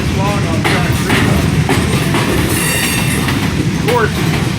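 A long Norfolk Southern westbound freight train rolls close by on its way out of the yard, a loud steady rumble with clattering wheels and brief metallic squeals, wind buffeting the microphone.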